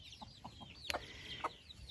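A hen with young chicks gives a few soft, short clucks at a distance, faint against a quiet outdoor background with a sharper squawk midway.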